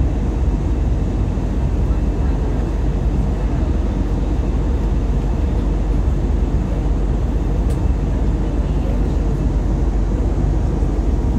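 Steady broadband roar of airliner cabin noise in flight, at night in rainy, dark weather, continuous and fairly loud throughout with no talking.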